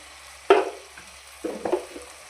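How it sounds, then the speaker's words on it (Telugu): Pieces of boti, goat tripe curry, are stirred in a pan with salt, chili powder and turmeric: two short, close scraping and sizzling bursts over a quiet background, no voices. "ఉప్పు ఇవన్నీ వేసి ఇలా కలుపుకుందాం"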